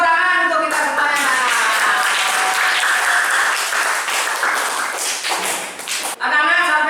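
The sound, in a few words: classroom applause, children clapping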